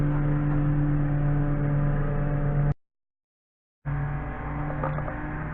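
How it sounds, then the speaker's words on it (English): A neighbour's lawn mower cuts grass nearby, a steady droning engine hum with a low rumble that runs continuously, cuts out abruptly for about a second, then resumes at the same level. "My neighbor is cutting his grass."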